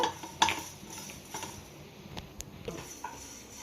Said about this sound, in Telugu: ధనియాలు ఉంటే మీకు ఒక స్పూను దీంట్లోనే వేసుకోండి చక్కగా వేగుతాయి దోరగా